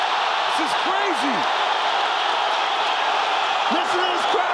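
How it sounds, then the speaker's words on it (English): A packed arena crowd roars at an MMA bout between Paulo Costa and Luke Rockhold, with a loud, sustained wash of cheering and occasional high whistles cutting through. "Listen to this crowd."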